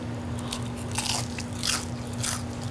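Crispy fried food served with kimchi gets bitten and chewed up close, giving several sharp, loud crunches over a low steady background hum, with no talking.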